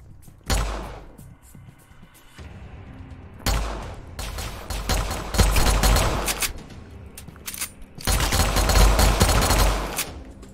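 M19 gun firing in a Roblox one-on-one duel: three loud bursts of rapid automatic fire separated by short quieter gaps, close and sharp.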